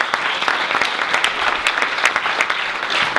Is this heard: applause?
yes